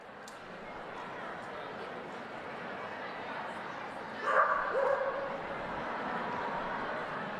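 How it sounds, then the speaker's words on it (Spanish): A small dog barks and yips at a papal general audience, giving a brief cluster of faint yelps partway through, set against steady crowd murmur and a distant voice in a large reverberant space. "Vemos también que hay un perrito que está haciendo sus actuaciones."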